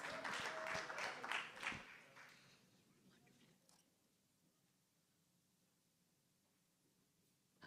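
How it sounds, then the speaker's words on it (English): A church congregation's applause at a Sunday service, dense clapping for the first couple of seconds that tapers off and fades to near quiet room tone. "Let's have another big round of applause."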